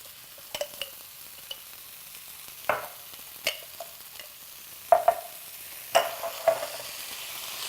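Ginger and garlic paste fries in a pan while being stirred, giving a quiet sizzle broken by scattered utensil scrapes and taps on the pan at irregular moments.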